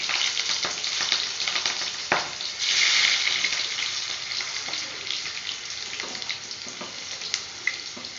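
Onions and green chilies sizzle and fry steadily in a pan for a home-cooked lunch, a constant close crackle with occasional stirring clicks and a louder burst of sizzle partway through.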